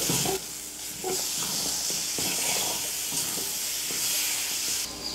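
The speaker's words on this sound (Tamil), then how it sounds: "இந்த மசாலாலாம் சேர்த்து நல்லா எண்ணெயில் வதக்கிட்டு" Spices and ginger garlic paste sautéing in hot oil for a fish curry give off a steady hiss and sizzle, close and moderately loud. Occasional stirring knocks break in, and no one speaks.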